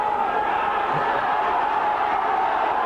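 A rugby crowd roars steadily throughout a St Helens versus Sheffield match, a dense, distant wash of voices with no breaks.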